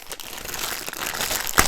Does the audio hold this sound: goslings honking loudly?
no